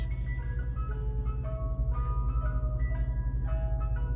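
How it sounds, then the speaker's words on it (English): An ice cream truck on a city street in Philadelphia's Hartranft neighborhood plays its looping melodic chime steadily and loudly, with a low engine rumble beneath and no talking. "the ice cream truck behind me"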